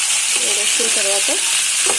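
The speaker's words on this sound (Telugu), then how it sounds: "బాగా ఫ్రై అవుతూ ఉంటాయి" Boiled liver pieces frying in hot oil in a pan, a steady loud sizzle with soft stirring scrapes, and a few faint voiced sounds in the background.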